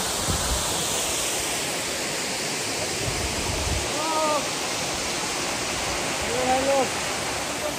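A waterfall in Bangladesh's Toiduchhara area roars continuously in a loud, even rush, while a voice speaks briefly over it twice near the middle and end.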